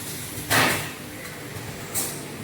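A stop cylinder on a wood stick and disc screw assembly machine actuates in two short pneumatic bursts about a second and a half apart, the first stronger, over a faint machine background with no talking.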